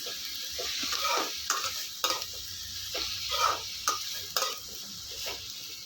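Tomatoes with rock salt sautéing in a pan for tomato rice, a steady close sizzle broken by repeated scraping stirs of a spoon against the pan, with no voices.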